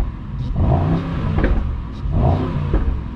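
2022 Mercedes SL 63 AMG V8 revving in short bursts, loud and close, with throaty rises and falls against a steady engine drone and no talk.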